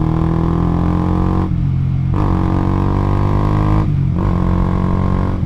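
A motorcycle fitted with an RX8-style exhaust on a 50 mm pipe holds a loud, close rev, dropping off sharply twice before surging back up.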